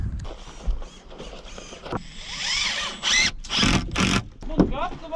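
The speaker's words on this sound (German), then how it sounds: "Nur ein Akkuschrauber." A cordless screwdriver whirs in short bursts during roofing work, rising pitched whines between clanks and handling noise, fairly close, with people talking around it.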